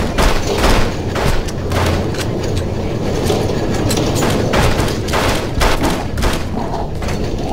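Pistol gunfire in the shooter game You Are Empty, a dense run of sharp loud shots and booms over a continuous roar of game noise and music, with no pauses through the whole stretch.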